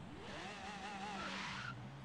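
A modified van's engine in Forza Horizon 3 gives a sustained whine that rises and wavers with a squealing, tire-like screech over a steady rumble, loud and continuous for about two seconds.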